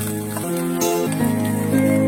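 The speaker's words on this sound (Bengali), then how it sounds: "দিয়ে দিচ্ছি কুচিয়ে রাখা পেঁয়াজ।" Chopped onions tossed into hot oil in a pan for a raw tomato and mustard paste dish, giving a steady, close sizzle that holds loud and even for about two seconds, with no talk over it.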